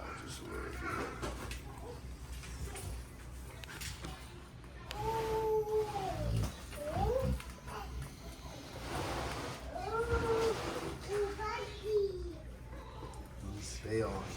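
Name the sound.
Rottweiler puppy crying when picked up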